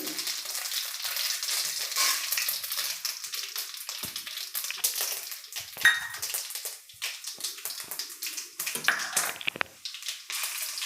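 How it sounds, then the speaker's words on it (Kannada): Mustard seeds, chana dal and urad dal frying in hot oil for a greens chutney, a steady close bright sizzle with crackling pops and occasional stirring scrapes throughout. "ಸ್ವಲ್ಪ ಸಾಸಿವೆ ಹಾಕ್ಕೊಳ್ತಾ ಇದ್ದೀನಿ ಹಾಗೆಯೇ ಸ್ವಲ್ಪ ಕಡಲೆಬೇಳೆ ಉದ್ದಿನಬೇಳೆ ಸ್ವಲ್ಪ ಸೇರಿಸ್ಕೊಳ್ತೀನಿ"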